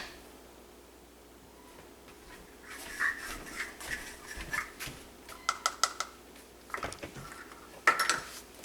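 Clanks, knocks and scrapes of a soap-making pot being rinsed in a sink, starting after a quiet stretch and continuing in irregular bursts, with a few sharper metallic hits near the end.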